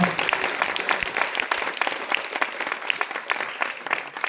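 Audience applause at a talk held by an association in Layrac, France: dense, steady clapping from a roomful of people, fairly loud and sustained throughout with no clear voices over it.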